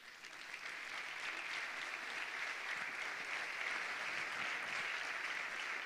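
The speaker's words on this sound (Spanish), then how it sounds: "Un aplauso para Mateo Maluccelli, el italiano." Sustained applause from an audience at a cycling team presentation, steady and fairly loud throughout, with no talking over it.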